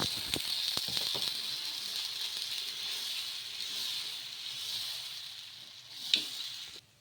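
Tomato pesarattu dosa frying in oil on a hot pan, a steady hiss and sizzle running throughout with a few soft clinks near the start and a brief louder crackle near the end.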